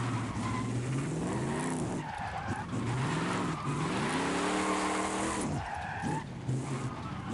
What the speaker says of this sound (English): I love the sound of this freaking V8 diesel engine this truck has.